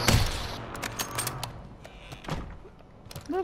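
Gunfire from a Katt AMR and BP-50 in Warzone ranked Resurgence: a loud opening burst followed by a quick string of sharp shots and clanking mechanical game sounds, fading toward the end.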